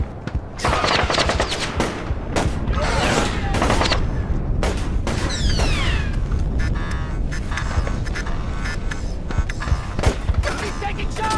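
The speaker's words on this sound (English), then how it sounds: "He's taking shots!" Rapid gunfire crackles through a Splinter Cell firefight, bursts of automatic shots and single cracks layered over loud mechanical clatter and impacts, with voices shouting in the mix throughout.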